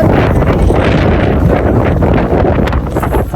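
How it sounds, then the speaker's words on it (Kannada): Strong wind roars and buffets the microphone continuously, loud and close, with no voices. "ತುಂಬ ಗಾಳಿ ಇದೆ"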